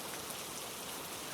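Steady rain falls in a dense, even patter, a continuous hiss of drops on surfaces with no voices.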